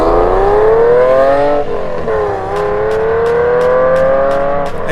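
A BMW 8 Series GT car's engine revs loud and close, pitch climbing steadily, briefly dropping near the midpoint, then rising again under sustained high throttle with no talk.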